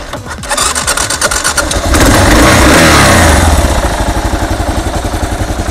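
A Kawasaki KL650E motorcycle engine cranks over with a rapid starter rhythm, catches and flares into a loud rev around two seconds in, then settles into a steady, pulsing idle close by.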